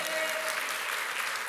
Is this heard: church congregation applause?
yes